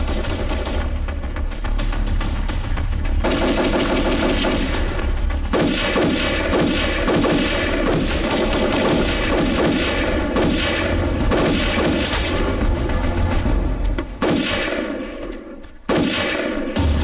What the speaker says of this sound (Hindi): फायरिंग हो रही है।